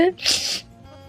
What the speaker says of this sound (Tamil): அதுக்குள்ள தும்மல் வருது.